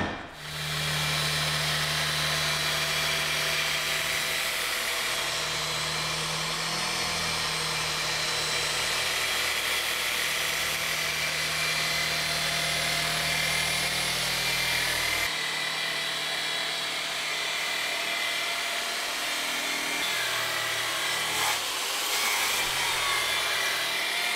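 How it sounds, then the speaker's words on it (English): Steady, loud abrasive grinding of a surface conditioning drum against stainless steel, continuous for the whole stretch with a low droning hum that drops out midway. "So I think the surface conditioning drum will fill those in nicely"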